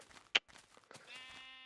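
A single sheep in Minecraft with the Buildcraft mod gives one short, close bleat that wavers and trails off, heard alone without talk.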